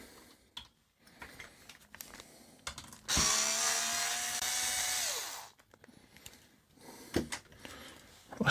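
A screwdriver works on screws inside an Akai AMU-310 amplifier, with scattered close clicks and scrapes around a sustained whirring, grinding stretch lasting a couple of seconds in the middle.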